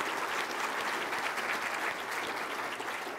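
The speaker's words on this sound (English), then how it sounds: "I want to give them a round of applause" Audience applause fills a keynote hall at a trade association conference, a steady dense wash of many hands clapping at even loudness from start to finish, with no voices rising above it.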